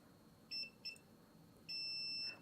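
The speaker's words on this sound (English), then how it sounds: "touch it to any other minus pad, which is ground, and you'll notice it beeps everywhere" Multimeter continuity tester beeping as its probes touch ground pads on a drone power distribution board: two short tones followed by one longer sustained beep, clear and close.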